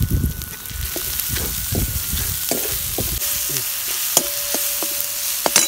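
Chopped onion and green chili garlic paste fry in a pan with a steady sizzle, while a spoon stirs through it with scattered scraping clicks and taps.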